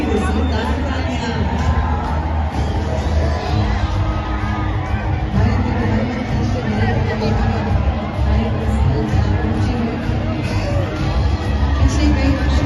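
A large crowd at the National Games 2024 roars and cheers in welcome of Prime Minister Narendra Modi, a thick, sustained wall of cheering and clapping with babble mixed in.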